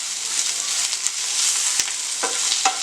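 Onions sizzle steadily in a kadai for a quail roast, with a few soft knocks and scrapes as they are stirred, close and continuous.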